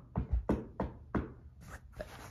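Four sharp knocks on a door land in quick succession, close and fairly loud, followed by two fainter taps; nobody speaks.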